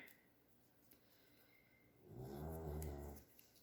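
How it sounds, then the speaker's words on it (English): Faint, quiet room tone, then a single low, rumbling dog snore swells up for about a second close by before fading. "And I've got snoring dogs again."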